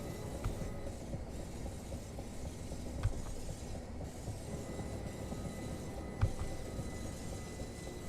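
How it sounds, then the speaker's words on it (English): Simulated train rolling over rails in Train Sim Classic on the Chatham Main Line, with a steady rumble and occasional sharp taps from wheel flats, a few distinct knocks spread through the run. "Sounds like it's got wheel flats on it. It's like a tap, tap,"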